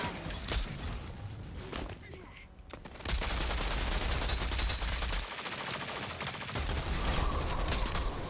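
SMG gunfire in a video game, rapid bursts of shots that grow into sustained fire, with a voice talking over parts of it.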